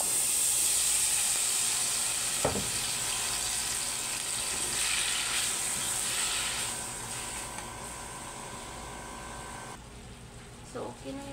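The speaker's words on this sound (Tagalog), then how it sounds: "mag-prito tayo ng bell pepper," Yellow, red and green bell peppers fry in a pan for chicken fajitas, giving a steady close hiss and sizzle that slowly fades, with a few clicks.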